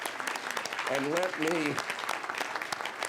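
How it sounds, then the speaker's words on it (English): Applause for an award presenter at a community event on sanctuary city policy, steady crowd clapping throughout with a voice speaking briefly over it midway. "let's give a round of applause for Nancy Abbott Young."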